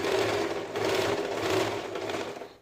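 A Usha Janome sewing machine running after oiling, a continuous close mechanical whir with a quick rhythmic stitching clatter, steady and moderately loud.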